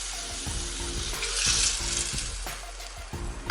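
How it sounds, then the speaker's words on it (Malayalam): Sizzling and frying in a hot pan of dry prawn theeyal as water is poured in, with steady loud crackle and bursts of hissing throughout, no voices. "ആവശ്യത്തിന് വെള്ളം കൂടെ ഒഴിച്ചു കൊടുക്കാം."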